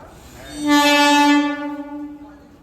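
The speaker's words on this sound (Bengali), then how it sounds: "ট্রেন নিজের নির্ধারিত সময় থেকেই 18 মিনিট লেটে স্টেশনে ঢুকলো" A train sounds a long, loud horn blast as it pulls into Bally station at dawn, running late. The steady tone swells quickly, holds for about a second, then fades away with rumbling noise beneath it.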